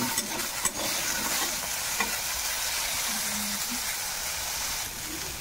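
Jackfruit seeds fry in a pan over a lowered gas flame, giving a steady, close sizzling hiss broken by scraping stirs throughout, with no talking.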